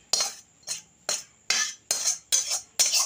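Spiced rice is stirred and mixed in a pan, a utensil scraping in six or seven regular, close strokes with short pauses between.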